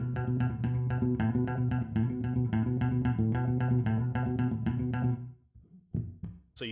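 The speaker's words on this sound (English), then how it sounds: "if you were to fit 5 notes into that space instead of 4, it would sound something like this." Bass guitar plays rapid, evenly repeated five-note quintuplet groups in a steady, loud run for about five seconds, then stops and a few scattered softer notes follow.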